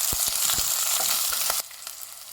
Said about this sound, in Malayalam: ഇനി ഞാൻ ഇതിലേക്ക് ഒരു 1/2 കഷ്ണം സവോള നീളത്തിൽ അരിഞ്ഞത് ചേർത്ത് കൊടുക്കണം. നന്നായിട്ട് ഫ്രൈ ചെയ്തെടുക്കാം.